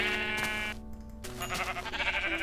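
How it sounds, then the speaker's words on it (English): Sheep in the Minecraft video game bleat repeatedly, a dense overlapping flock of loud, wavering calls that fills the whole stretch with a brief dip in the middle. "Whole shitload of sheep here"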